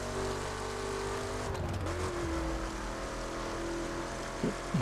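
Chevrolet Camaro in The Crew on PS4, engine droning steadily with a shifting pitch as it drives, continuous road and motor noise throughout with a brief sweep near the end.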